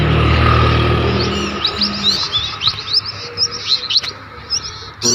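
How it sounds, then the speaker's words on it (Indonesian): Many birds chirp and tweet in a roadside forest, with bright, scattered calls from several directions and no talk. "Burungnya banyak nih."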